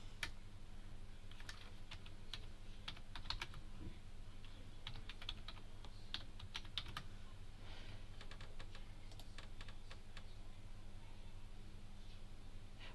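Steady typing on a computer keyboard, a run of quick light key clicks with brief pauses, close and fairly quiet over a constant low hum, with no talk.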